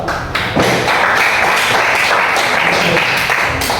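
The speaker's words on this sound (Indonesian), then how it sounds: "Kita beri aplaus dulu." Classroom applause from students during a teaching session, steady dense clapping that starts abruptly and keeps going at full strength, loud and close, with no talk over it.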